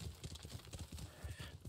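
Horse hooves of Sora in the video game Ghost of Tsushima, a quick rhythmic clip-clop of a trotting horse, close and steady across the whole short stretch, fairly faint overall.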